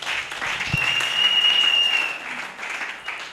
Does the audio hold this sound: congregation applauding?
yes